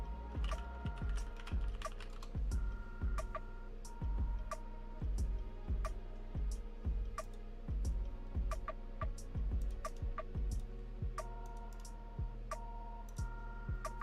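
Keys clack in quick, uneven bursts on a Womier TKL mechanical keyboard, close and fairly quiet, with short pauses between runs of typing and no talk.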